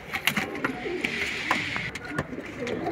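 Pigeons coo softly amid clattering and rustling nearby, with brief bursts of background noise.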